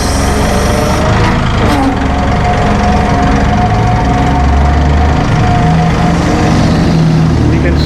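A Massey Ferguson 1840E hydrostatic compact utility tractor with a 39.4 hp engine runs steadily and close by, a continuous low mechanical drone with a rough knocking texture throughout.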